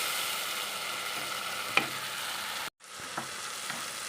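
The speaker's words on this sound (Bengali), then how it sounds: "এই পেঁয়াজটাকে এখন আমি দিয়ে দিলাম পেঁয়াজটাকে ভেজে নেব" Onion paste frying in a pan for a Bengali chital fish curry, making a steady close sizzle with a couple of soft stirring clicks and a brief break partway through.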